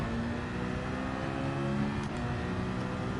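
Engine noise from a car in the Gran Turismo 7 racing game, a steady, loud, sustained drone with a harsh, mean tone, continuous for the whole stretch with no talking.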